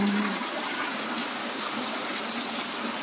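Spring water pouring steadily at Shivdhara in Chitlang, a constant broad rushing flow close by, even in loudness throughout with no voices.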